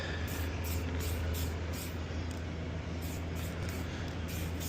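Short hissing bursts of an aerosol spray can repeat in a quick rhythm, with a low wind-like rumble underneath.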